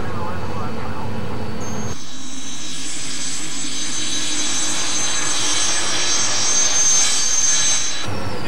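Fixed-wing airliner touching down with engine power pulled back and no reverse thrust, a broad steady roar with a high whine that drops suddenly at about two seconds and then swells again near the end.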